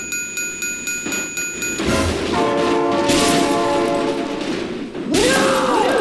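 A train horn blasts loud and close, sustained for several seconds with a brief second blare near the end, over rumbling rail noise and a run of regular clicking beforehand; frantic shouting is mixed in.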